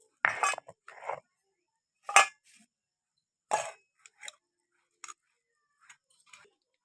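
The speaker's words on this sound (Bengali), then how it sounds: "বাটির মধ্যে এটিকে আমরা এবার তুলে নেব" Banana flower paste is scraped from a grinding stone into a bowl with a utensil, giving a few sharp metallic clinks and scrapes spaced by quiet pauses, close and clear.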